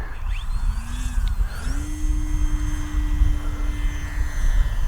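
An Arrows Bigfoot RC plane in flight, its electric motor whining steadily; the pitch steps up sharply partway through, then holds over constant wind rumble with no voices.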